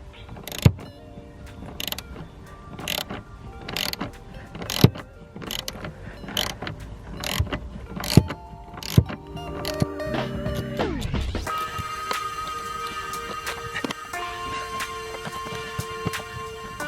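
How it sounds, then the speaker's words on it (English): A ratcheting wrench tightens a rivet nut during a K-brace install on a Ford Focus RS, clicking in a steady rhythm of sharp ticks before a strained, rising creak and mechanical hum take over. "I'm using the closed end of a ratcheting wrench"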